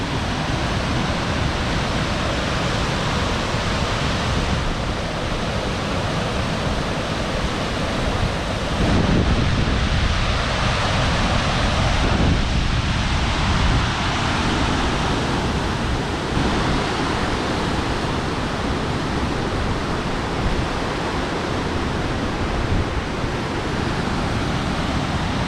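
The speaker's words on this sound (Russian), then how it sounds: "Ну вот, водопад большой." The large Auttiköngäs waterfall in Finland roars as a continuous, loud broadband rush of falling water, steady and unbroken throughout with no voices.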